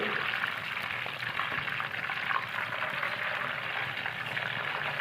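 Cauliflower (gobi) fries in a pan with a steady, close, dense sizzle that hisses evenly throughout, with no voices over it.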